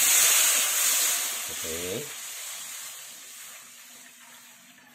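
Water poured into a cooking pot for broth, a loud rushing splash at the start that fades into a soft simmering hiss, with one brief spoken word partway through.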